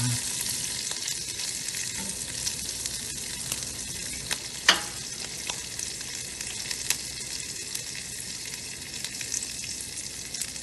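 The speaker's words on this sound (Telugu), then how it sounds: "ఆవాలు చిట్టుపట్లు వేయాలి కదా" Mustard seeds crackle and pop in hot oil, a steady frying hiss dotted with sharp spluttering snaps, one louder pop standing out, with no talking.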